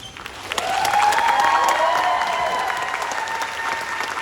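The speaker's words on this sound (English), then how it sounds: "can we all stand up and give round of applause to all of our professors and instructors, please?" Standing round of applause for professors and instructors at a nursing pinning ceremony, crowd clapping swelling quickly and holding strong, with whoops and a whistle-like tone above the steady patter.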